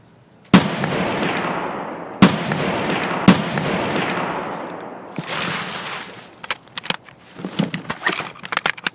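Gunfire in the shooter game Escape From Tarkov: three loud, sharp shots spaced a second or two apart, each with a long echoing tail, followed by a flurry of quicker, fainter distant cracks and rattles.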